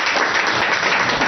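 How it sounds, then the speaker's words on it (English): A conference audience at an Africa investment event bursts into dense, sustained applause, many hands clapping at once, loud and steady through the short moment. "I think we just need to give them a round of applause right now."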